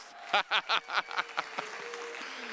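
An audience at a customer service talk claps for the camera crew and sound team, opening with a few sharp, loud claps that quickly taper into softer, scattered clapping with a faint steady tone behind it.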